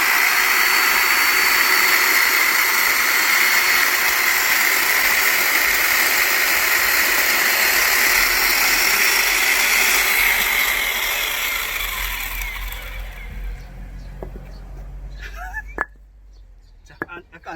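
An electric chainsaw cuts firewood logs for camping, a loud steady whine that holds for about ten seconds, then eases off and fades out as the cut finishes, ending in a few faint knocks.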